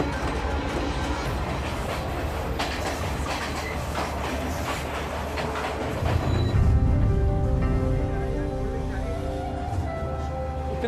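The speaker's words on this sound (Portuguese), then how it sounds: "Embarcamos no trem para viajar até o coração do Sri Lanka." A passenger train rolling through Sri Lanka, steady rumble with rhythmic clickety-clack of wheels on rails, some squealing tones, growing louder and heavier partway through, with faint voices in the carriage.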